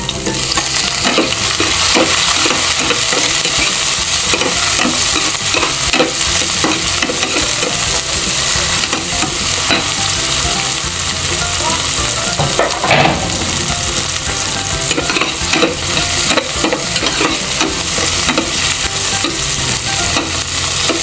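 Homemade fishballs and tomatoes sizzle steadily in a pan, with a continuous loud frying hiss and occasional stirring scrapes throughout, before cabbage goes in.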